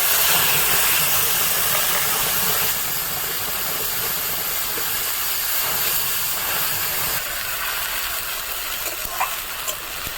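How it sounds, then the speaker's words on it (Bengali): Onion paste frying in hot fish-frying oil for a catla kalia curry, giving a steady, loud broadband hiss and sizzle that runs unbroken throughout with no talking. "মাছ ভাজা তেলেই আমি পেঁয়াজ বাটা দিয়ে দিচ্ছি।"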